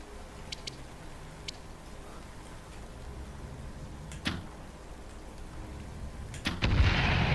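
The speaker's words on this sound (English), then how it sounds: "I didn't want to shoot another bomb" A bomb goes off in the VR archery game Twisted Arrow: a sharp blast mid-way, then a louder, sustained roaring burst near the end over a quiet ambient background.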